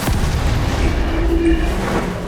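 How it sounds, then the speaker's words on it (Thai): Grenade explosions in the Roblox game Darkdivers, heard as a loud, dense, continuous booming rumble with overlapping bursts and a brief ringing tone partway through, with no voices over it. "ผมนี่ปาระเบิดฮิวร้อนเลยครับ"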